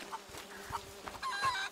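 Chickens cluck in A Plague Tale: Innocence, a few short, quiet clucks and one brief busier flurry of bird calls near the end, heard fairly faintly.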